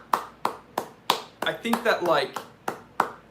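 A single person claps hands in a slow, regular beat, about ten sharp claps, close by, with a brief stretch of speech breaking in through the middle.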